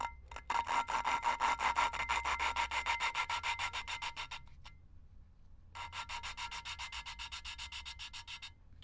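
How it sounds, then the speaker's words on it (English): An engine valve is lapped against its seat with gritty grinding compound, making close rhythmic rasping scrubs in two long bursts separated by a brief pause. "But as soon as I lift it once, put it back in, it's got that real gritty sound again."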